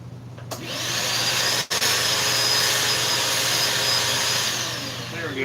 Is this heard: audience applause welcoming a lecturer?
no